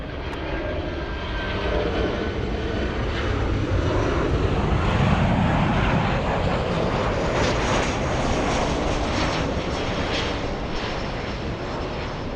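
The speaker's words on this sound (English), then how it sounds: "Delta's 2114 flying in from Minneapolis, a 3-hour, 23-minute flight." A Delta airliner on a Minneapolis flight arrives at Los Angeles International, its engines roaring loud and steady for the whole stretch, a broad continuous rumble that swells slightly toward the middle.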